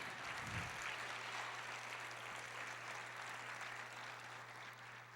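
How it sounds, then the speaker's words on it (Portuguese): A church congregation applauds in a large room, a continuous, dense clapping that holds steady for several seconds, faint and distant. "Aplauda o Senhor, glorifique o seu nome."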